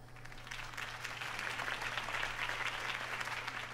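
Crowd applause greets Harvey Dent's campaign speech in Batman: The Telltale Series, a steady wash of many clapping hands at moderate level over a low electrical hum, with no talking.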